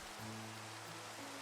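Steady rain falling during a thunderstorm in Minecraft, a soft even hiss with a faint low tonal hum underneath, constant and quiet throughout.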